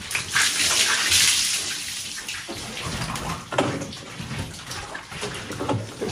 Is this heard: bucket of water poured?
yes